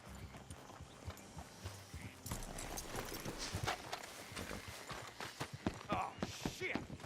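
Horse hooves clip-clopping in Red Dead Redemption 2, a steady walking rhythm of hoofbeats close by, mixed with other game sounds and people talking over them.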